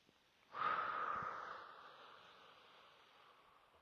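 A single long inhale through the nose during a guided breathing exercise, a soft airy rush that starts sharply and fades slowly over a few seconds, close and quiet.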